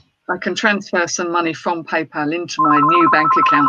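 A phone rings with a steady repeating electronic tone that begins partway through and carries on under continuous nearby talk.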